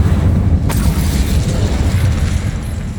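Incendio fire spell cast in Hogwarts Legacy: a sharp burst opens into a loud, sustained fiery rumble that roars on steadily for several seconds, up close and alone.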